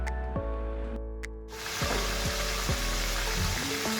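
Chicken pieces deep fry in oil for a restaurant-style white karahi, a loud continuous bubbling sizzle up close, with a few clinks and scrapes of a utensil against the pan.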